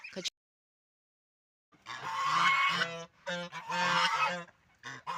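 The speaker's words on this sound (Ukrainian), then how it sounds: "наші гуси просто гагакають" Geese honk loudly and repeatedly in raucous bursts close by, after a brief sound and a short silence at the start.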